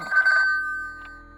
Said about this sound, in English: Oh, you ring. Go ahead and ring.